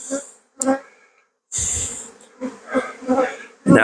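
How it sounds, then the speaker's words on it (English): Honey bees buzz in short, uneven bursts during a hive inspection while a nuc is being filled, their close hum rising and breaking off between handling noises. "I got to separate and get these bees all inside that nuke."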